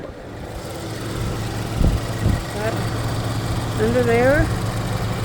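2013 Ford Edge engine idling with the hood up, a steady low rumble close by, with a couple of brief thumps and a person speaking over it.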